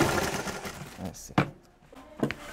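Sewing machine stitching a lining for a boutique garment: a short whirring run followed by a few brief mechanical bursts, close and at moderate volume, mixed with a person talking.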